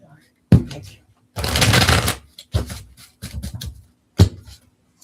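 Tarot cards are shuffled by hand in a few quick bursts of riffling and flicking, with short pauses and soft taps between them.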